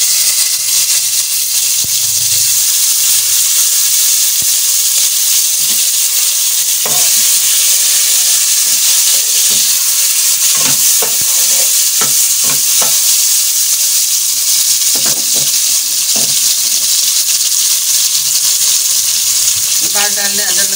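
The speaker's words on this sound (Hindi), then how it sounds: "देखिए लहसुन हमारा हो चुका है ब्राउन। अब इसमें डाल दें हम टमाटर।" Tomatoes added to browned garlic in a hot pan for masoor dal, a loud continuous sizzle and hiss with scattered clicks of stirring close up, no voices.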